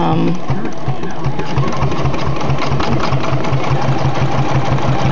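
Sewing machine running for free-motion stitching, a loud, close, continuous rapid mechanical chatter with a steady pulsing rhythm throughout.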